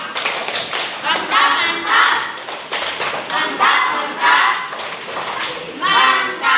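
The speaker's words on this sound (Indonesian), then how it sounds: "Oke, tepuk mantap." A group of people claps together in a patterned rhythm, with loud repeated bursts of hand claps coming in rounds over several seconds in a classroom gathering.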